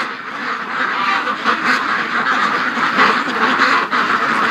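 A flock of ducks quacks steadily near their pen in the yard, a dense, continuous chorus of overlapping calls that stays loud and close throughout.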